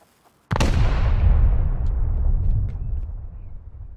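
A single loud, deep explosion in the video game Rust bursts suddenly, then rumbles and slowly decays over several seconds with no talking.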